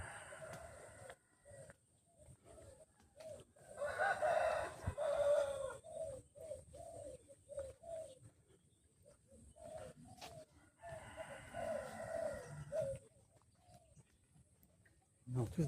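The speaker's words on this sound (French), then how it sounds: "Et une poule derrière." Backyard chickens in rural Vietnam, with a hen giving a run of rhythmic clucks and a rooster crowing nearby, heard in bursts among outdoor ambience under a voice talking.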